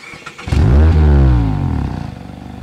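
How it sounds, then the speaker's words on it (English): A 2019 Mazda MX-5 Miata RF with its stock exhaust fires up and revs once, a loud close-up engine roar that rises sharply and then settles into a steady idle. "While I think the stock exhaust sounds pretty good"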